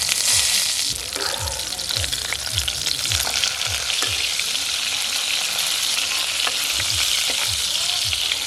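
Prawn fritters (bora) crackle loudly in frying oil while a spatula scrapes the pan in a regular, repeated rhythm, close and continuous.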